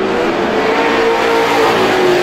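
Outlaw race cars roar around the oval at Star Speedway, a continuous loud engine drone from several cars at speed under a steady, unbroken wall of noise.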